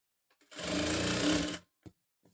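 A sewing machine stitching a designer blouse runs in one steady, close whirring burst of about a second, followed by a couple of faint mechanical clicks.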